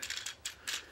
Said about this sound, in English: got a ratchet joint there